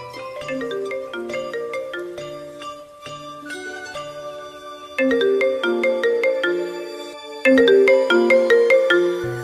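A phone ringtone plays a bright, repeating chime melody, loud and alone, while a worried woman calls her older brother about her dwindling balance.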